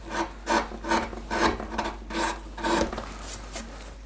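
Carving gouges cutting wood on a carved hanging shirt, rhythmic rasping scrapes about every half second, close and steady, with a low hum underneath and no voices.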